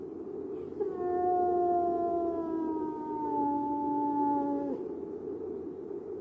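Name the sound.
dog howling, the hound in a radio drama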